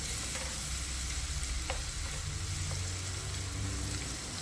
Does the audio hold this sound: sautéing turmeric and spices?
yes